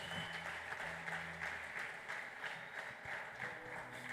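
A church congregation applauds, producing steady, moderately distant clapping that continues evenly throughout, with a faint low hum of background sound beneath it.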